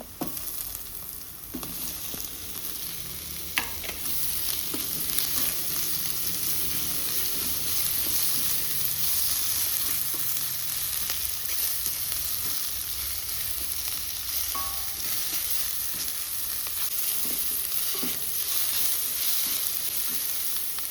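Tomatoes fry in a pan for chicken xacuti, giving a continuous bright sizzle close up. Occasional scrapes and clinks of stirring break through, with no talk.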